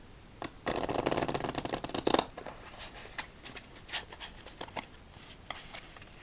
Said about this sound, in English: Victory shuffle time.